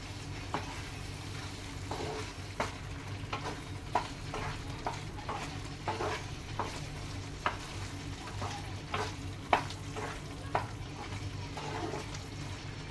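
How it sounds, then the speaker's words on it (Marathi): Iffa chicken cooks in a pan, giving a soft, steady sizzle with repeated light scrapes and knocks as it is stirred. No one speaks. "तर आपण थोडंसं ढवळून घ्यायचं आहे।"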